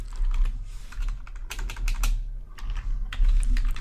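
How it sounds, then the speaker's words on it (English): Typing on a computer keyboard, irregular bursts of close, crisp key clicks with short pauses between runs of keystrokes. "So I'm going to type in"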